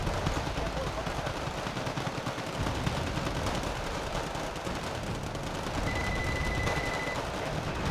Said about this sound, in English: lovely mortar fire coming in from my teammate